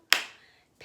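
A single sharp hand clap stands in for the letter A in a children's apple song. It is crisp and close with a short fading tail, and the next clap just starts at the very end.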